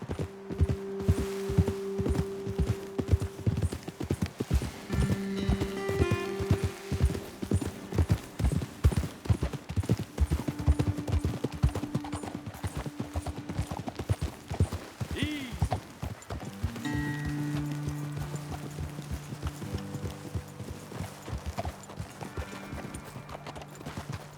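Horse hooves clop rhythmically in the Western video game Red Dead Redemption 2, a fast, steady clip-clop of several horses moving close by, with occasional snorts and a whinny, under intermittent talk and background music.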